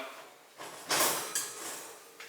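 An oven door is shut after bagel dough goes in to proof, giving a few close, moderate thumps and clatters in a quiet home kitchen, with no talking.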